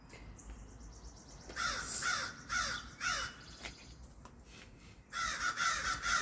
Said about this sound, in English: And yes, I've been feeding the crows.